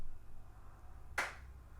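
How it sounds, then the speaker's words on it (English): A single sharp hand clap marks the start of a podcast recording about model car culture, standing alone against a quiet room hum and fading quickly. "Hit it with the clap"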